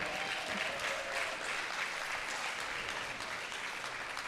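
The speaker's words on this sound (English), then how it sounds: "Give round of applause." An audience at a pickleball night event gives a round of applause, dense steady clapping that fills the whole stretch with a faint crowd murmur underneath.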